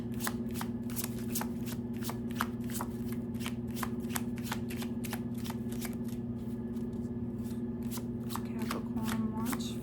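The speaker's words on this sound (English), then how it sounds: "All right, 3rd card, and we're going to bring this together." Tarot cards shuffled by hand in a quick, steady run of crisp riffling flicks over a low constant background hum, close and fairly quiet, with no talking.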